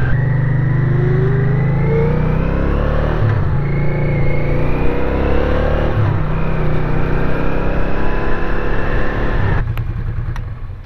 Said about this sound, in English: I really like how the bike sounds. It's not as loud as the KLR 650.